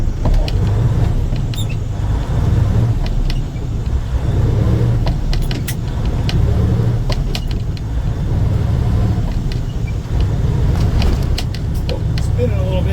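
Inside the cab of a truck with an Eaton Fuller 10-speed transmission and no trailer, a steady low engine rumble and road noise continue throughout, with faint clicks of clutch and shifting.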